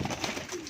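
Pigeons coo softly and close by in a short, rolling burst of low, throaty calls, with nothing else in the way.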